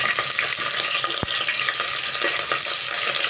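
Fresh curry leaves frying in hot oil give a loud, steady, broadband sizzle that crackles continuously. One sharp tap lands partway through, and no voices are heard.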